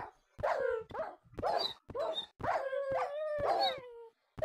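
Several Minecraft dogs howl and yelp in a burst of short, whining cries that repeat every half second or so, with one longer drawn-out howl in the middle; loud and close, no talking.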